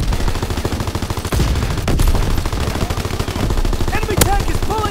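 Sustained rapid machine-gun fire and scattered gunshots in the World War II shooter game Call of Duty WWII, dense and loud throughout a tank battle scene.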